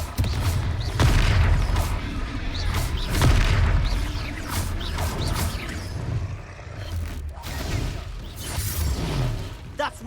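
Confringo fire spell explosions in Hogwarts Legacy combat: loud booming blasts at irregular intervals, with whooshing and rumbling battle noise filling the gaps.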